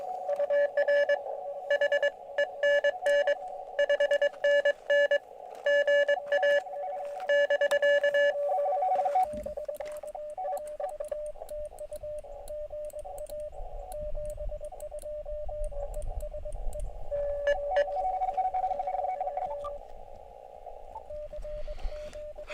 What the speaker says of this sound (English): We have RTTY coming in loud and strong right on top of me.